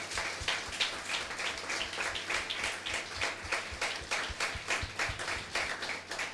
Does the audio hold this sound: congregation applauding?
yes